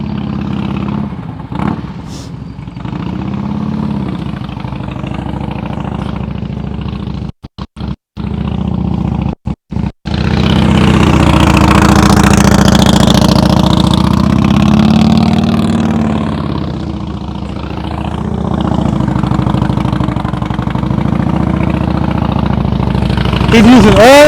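A motorcycle runs through slow-speed practice maneuvers, its engine idling and blipping steadily at a distance for the whole stretch, with someone talking over it throughout.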